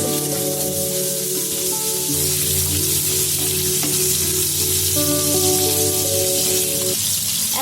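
Shrimp fry vigorously in hot oil until reddened, a loud, steady crackling sizzle that runs unbroken throughout with light stirring and no speech.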